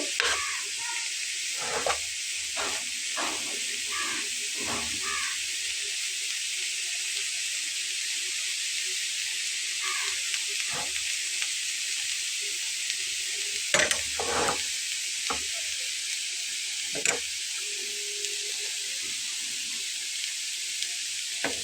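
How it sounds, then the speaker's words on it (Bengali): Grated carrot and potato stirred in an oiled frying pan over low flame, with a continuous bright sizzle and scattered scraping strokes of the spatula, close and steady throughout. "দিয়ে খুব ভালোভাবে এটাকে একসাথে মিশিয়ে নেব"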